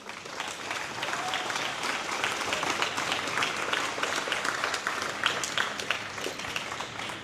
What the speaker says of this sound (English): Please give every volunteer a round of applause.